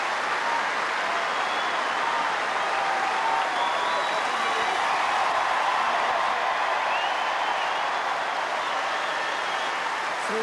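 A tennis crowd applauds at a Wimbledon-style match after Henman wins on match point, a broad, continuous wash of clapping and cheering that holds steady and loud for the whole stretch.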